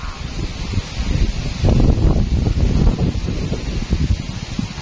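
Strong wind gusting through a banana grove, with low, buffeting rumbles and rustling that swell in the middle and keep pulsing in irregular surges against the microphone.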